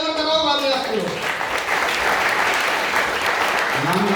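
Loud, dense audience applause fills the room at an RCM business seminar in Greater Noida, with a voice speaking over it at the start and again at the end.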